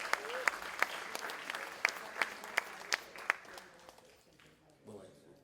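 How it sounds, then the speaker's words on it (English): A crowd at a Caribbean heritage event gives a round of applause, a few seconds of scattered clapping with distinct sharp claps near the front that fades out, followed by a faint voice. "Give him a round of applause."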